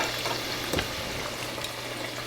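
Batch of six or seven pieces frying golden brown in a pot of hot oil, a steady close sizzle and crackle with one brief louder pop, no talk.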